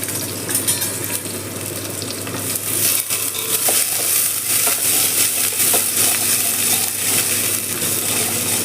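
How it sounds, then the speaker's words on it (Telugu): Onions and cumin seeds fry in a pan for tamarind rice, giving a steady, loud sizzle and crackle, with scraping stirs and light clinks throughout and no talking. "ఒక స్పూన్ సాజీరా, అలాగే ఒక 2 గడ్డల ఉల్లిపాయలు,"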